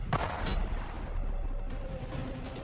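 Rifle gunfire rings out at a distance: a sharp report near the start, followed by a series of muffled, echoing shots under a steady low rumble.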